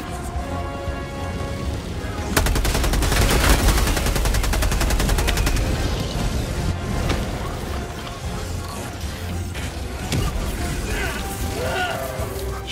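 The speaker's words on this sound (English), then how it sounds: "Shots everywhere." Rapid automatic gunfire and scattered shots in the Helldivers 2 video game, a dense loud burst of fire that then continues more thinly under the battle noise.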